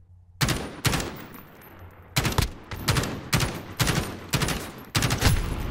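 Gunfire in Call of Duty Modern Warfare, a series of loud sharp shots in quick bursts with short pauses between them, about eight blasts over several seconds and no talking.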